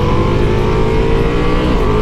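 A 2021 Ducati Multistrada V4S motorcycle's 170 hp engine roars loud and close on a race track, holding a steady, dense high-revving drone with no gaps or voices.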